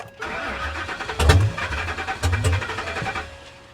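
A 1990s-era Chevy S10 pickup engine cranks repeatedly with a rhythmic churning whir and sharp bursts, never catching and settling into a steady idle.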